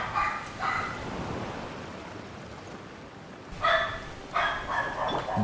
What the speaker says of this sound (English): Can't shut their dogs up.